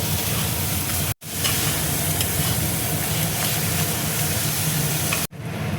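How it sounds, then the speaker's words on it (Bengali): Prawn paste fries with spices in a pan, a loud, dense, continuous sizzle heard close up, cut by two brief silent gaps. "চিংড়ি মাছটা মশলার সঙ্গে দেখো ভালো করে আমি ভেজে নেব"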